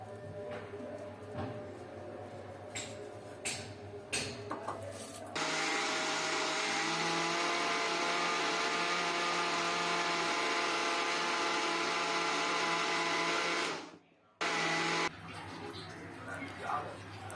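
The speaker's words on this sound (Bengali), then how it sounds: "আমি টমেটোগুলো ঠান্ডা হলে ব্লেন্ডারে ব্লেন্ড করে নেব" Electric blender whirring as it purees cooled tomatoes for homemade tomato sauce, a steady loud motor drone that runs for several seconds, cuts out briefly, then restarts, with scattered kitchen clatter before it.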